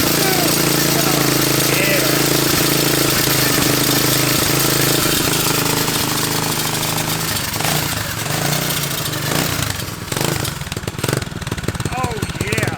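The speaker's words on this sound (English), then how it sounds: "Let's hear this dual exhaust." A pocket bike fitted with a racing engine runs through a dual exhaust, a loud, steady buzzing drone that fills the whole stretch, wavering as the revs shift near the end, with voices faintly underneath.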